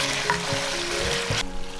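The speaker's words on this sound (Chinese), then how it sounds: "然后调大火收一下汁" Braised chicken feet in dark soy and Huadiao wine sauce bubble and sizzle over high heat as the liquid reduces, a brief close hiss with light stirring that cuts off abruptly.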